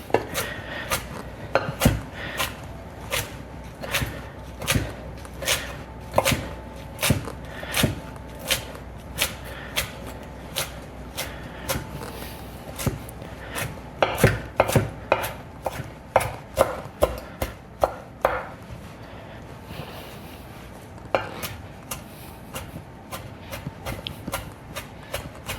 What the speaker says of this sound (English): let's put all the leaves now and also just cut it nicely